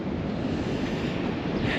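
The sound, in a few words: wind and surf at a windy beach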